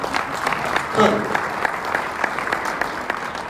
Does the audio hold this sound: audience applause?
yes